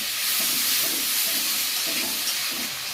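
Rohu fish curry with green chillies and salt being stirred in a pan, a loud continuous hiss and sizzle with a few soft scraping strokes, close up and with no talk.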